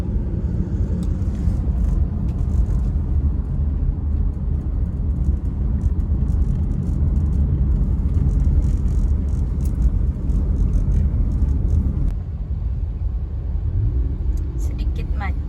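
A car moving slowly through light traffic jam at Ubung, Bali, with a continuous low engine and road rumble from inside the cabin, steady before easing slightly near the end, while people talk over it.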